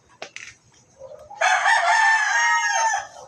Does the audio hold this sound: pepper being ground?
no